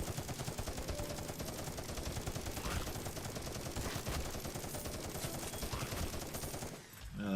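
Video game gunfire in a graveyard level: dense, rapid, continuous bursts of shots and automatic fire, loud and unbroken for several seconds, dipping briefly near the end before resuming.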